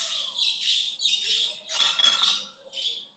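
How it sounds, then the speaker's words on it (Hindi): Shrill, close bird chirps and squawks come in several bursts with short gaps, high-pitched and fairly loud. "जिसके यहाँ से ये चिड़िया का आवाज आ रहा है।"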